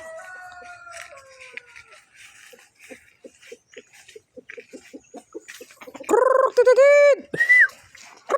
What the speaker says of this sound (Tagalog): Papakain natin to sa mga manok.